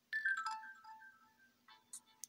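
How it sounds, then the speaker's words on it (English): A short melodic phone alert chimes from a text message in a dating video game, a quiet, clear tone sequence with a couple of brief follow-up blips. "A loud beep of my phone wakes me up."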